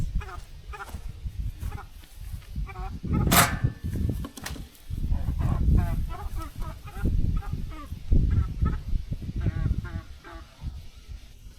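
A flock of domestic chickens and geese clucks and honks in bursts, calls overlapping near and moderately loud in an outdoor farm yard, with no clear talk.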